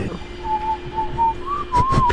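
A person whistles a short wavering tune, a thin clear tone rising slightly in pitch, with traffic noise behind and a brief knock near the end.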